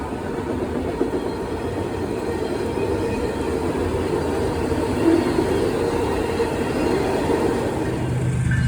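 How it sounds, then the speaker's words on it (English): Canadian Pacific freight train 230, led by a Union Pacific locomotive, rolls steadily through Chesterton, Indiana in a heavy evening downpour, its continuous rumble blending with the hiss of rain. "Next up comes Canadian Pacific 230 in a complete downpour with the solo Union Pacific leader"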